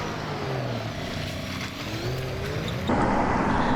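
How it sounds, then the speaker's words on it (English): Big truck driving past outside a high-security hotel, a steady engine drone whose pitch slides as it passes, then a louder broadband surge toward the end, with no speech. "There's a big truck coming."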